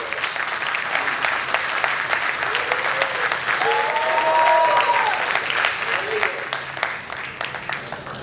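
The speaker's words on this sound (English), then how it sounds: "Please give IESA a round of applause." Conference audience at an energy transition panel discussion applauding the India Energy Storage Alliance, sustained even clapping that swells slightly midway, with a voice speaking briefly over it.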